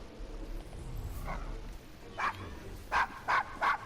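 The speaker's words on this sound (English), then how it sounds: "Is your dog quite all right?" A dog in the Assassin's Creed Syndicate video game barks three times in quick succession, clear and fairly near, after a softer earlier yip over a low ambient game background.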